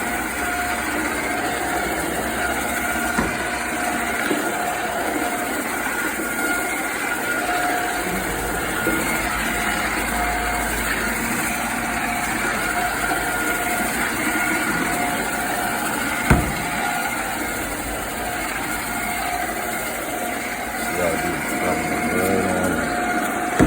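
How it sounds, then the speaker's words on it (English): Counter-rotating brush tile and grout cleaning machine running on a tiled floor, both brushes spinning, giving a steady, continuous mechanical whir and hum close by with no speech. "Counter rotating brush, that's what the CRB stands for. As you see, both brushes are spinning."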